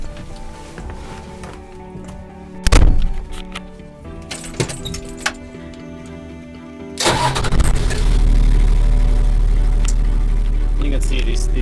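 A Toyota FJ40 with a diesel conversion cranks and catches, with a sharp clatter and a couple of knocks before the engine fires and settles into a loud, steady diesel idle close by.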